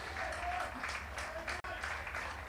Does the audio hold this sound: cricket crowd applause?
yes